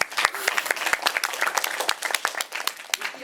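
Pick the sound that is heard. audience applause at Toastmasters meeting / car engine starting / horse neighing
audience applause at Toastmasters meeting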